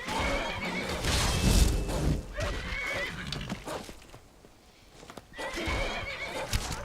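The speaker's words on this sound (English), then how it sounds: "Leave my horsey alone." Horse neighing and whinnying in the video game Skyrim, several loud whinnies with clip-clopping hooves, a brief quiet gap, then more neighing.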